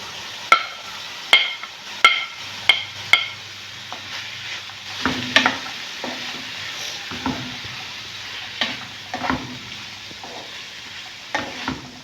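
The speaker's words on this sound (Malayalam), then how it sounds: "മുട്ട അടിയിൽ പറ്റാതെ ഇളക്കിക്കൊണ്ടിരിക്കണം." Green peas and egg fry in a pan. A spoon gives a run of sharp, evenly spaced knocks against the pan, then slower stirring scrapes over a soft, quiet sizzle.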